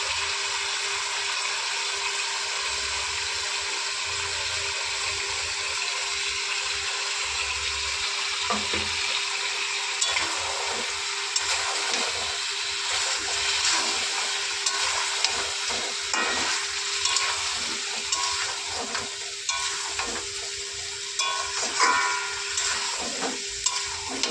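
Ground spice paste frying with chicken in mustard oil makes a steady sizzle with occasional stirring scrapes and small pops, close and constant, with no talking.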